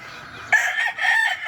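A derby fighting rooster crows nearby, one loud drawn-out call breaking into a couple of strained bursts, standing alone against quiet.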